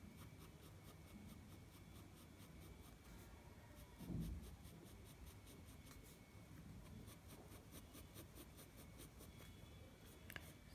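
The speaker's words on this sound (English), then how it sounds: "Now next I'm gonna use my 2B pencil because I need a darker shade." Steady, soft scratching of a 2B pencil shading on paper, a continuous close rasp with small stroke variations and one brief louder scrape midway, no talking.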